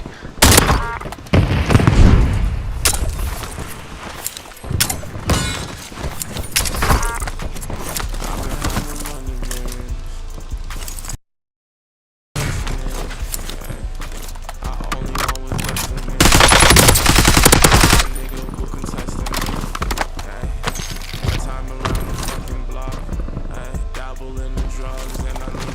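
Video game gunfire comes as a dense, continuous stream of rapid shots over a busy mix of game sounds. A brief silent gap falls partway through, and a louder burst follows it.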